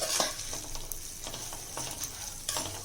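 Sprouted beans being dry-roasted and stirred in a pan, with light scraping stirs and soft crackling sizzle repeating in irregular strokes up close, no talking.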